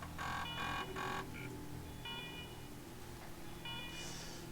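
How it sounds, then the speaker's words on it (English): Old computer terminal in the game Wasteland 3 powering on, giving a few electronic beeps and tonal bleeps over a steady low whirring hum, close and moderately quiet. "The computer beeps and whirs for the first time in years."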